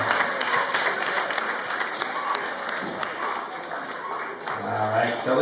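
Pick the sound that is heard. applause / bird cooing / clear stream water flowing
applause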